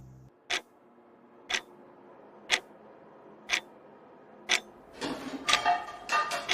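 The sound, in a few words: clock ticking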